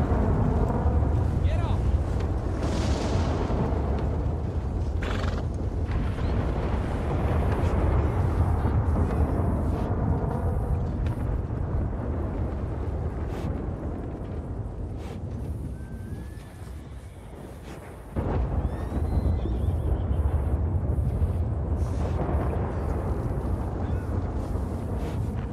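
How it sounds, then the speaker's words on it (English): Thunder rumbles in a Red Dead Redemption 2 storm. A deep, sustained roar swells and fades, briefly drops out, then returns loud and heavy, with wind-like noise throughout. "It's so much more intense with the thundery effect."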